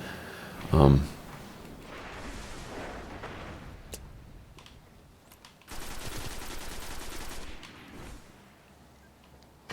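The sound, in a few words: hand cannon gunfire in video game Destiny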